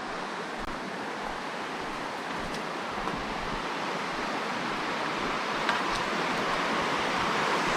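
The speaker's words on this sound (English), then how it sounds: "Here we are at the confluence of this big creek" A big creek at a confluence flows steadily, a broad, even rush of water that stays close and constant throughout, with no voices.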